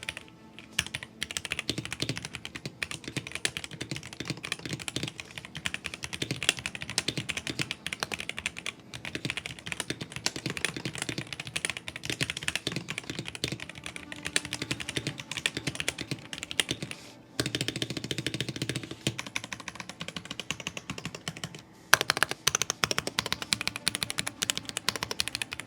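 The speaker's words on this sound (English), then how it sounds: "here's a quick sound test with the ROG NX brown switches" Steady, fast typing on an Asus ROG gaming keyboard with NX brown mechanical switches, dense clacking keystrokes close up for about twenty-five seconds with two short pauses and no talk.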